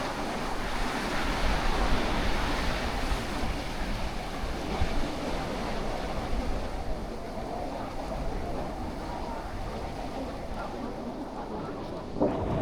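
Surf washing steadily onto Morjim Beach in Goa, a continuous broadband roar with some wind buffeting, and a voice speaking over the waves at times.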